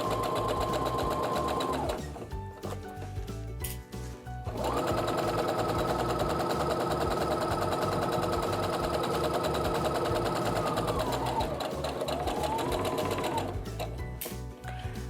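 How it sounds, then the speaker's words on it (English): A sewing machine stitches quilt fabric in long, steady buzzing runs, pausing briefly between seams, close and clear with little else around it. "just kind of guide the fabric through as you're sewing"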